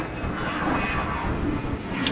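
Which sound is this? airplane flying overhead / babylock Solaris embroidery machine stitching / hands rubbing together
airplane flying overhead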